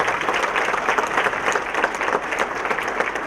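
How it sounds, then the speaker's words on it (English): Sustained audience applause at a business appreciation breakfast honoring award winner O'Meara, dense steady clapping from a room of people throughout, fairly loud and even. "I want an applause for O'Meara"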